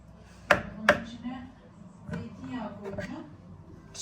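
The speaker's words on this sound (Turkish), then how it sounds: "Şimdi bunları küp küp doğrayıp bu şeye mi atacağım?" A few sharp knife chops on a cutting board as eggplant is cut into cubes, two loud strikes then softer cuts, with low background murmur.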